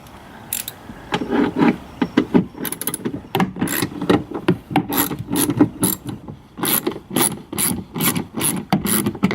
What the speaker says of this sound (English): these are just going to be T20 Torx